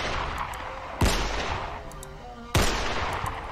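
Two sharp, loud gunshots about a second and a half apart are fired at a monster in a horror game set on a Japanese train, each followed by a ringing tail.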